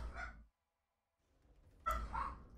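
Dogs bark in two short bursts, the first sharp and brief, then a louder cluster of yips and barks after a pause, fairly close and without talk.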